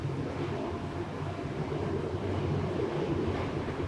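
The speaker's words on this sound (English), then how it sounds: "There's a train going by, so sorry if that's really loud." A train passes near a tropical greenhouse, producing a continuous low rumbling roar heard from some distance, steady and fairly quiet, with no voices over it.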